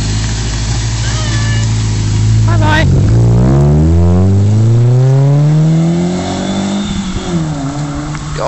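A Ford Mondeo track car with a 2-litre Zetec engine accelerates hard, its loud engine note climbing steadily through the revs, dropping back, then rising again, heard close up from inside the car.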